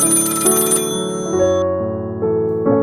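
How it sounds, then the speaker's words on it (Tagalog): An old rotary telephone rings at midnight, a bright electronic-sounding ring in short stepped tones that change pitch several times, clear and fairly near with no voices. "Hinanap ko yung tunog at nung napalingon ako sa rotary phone"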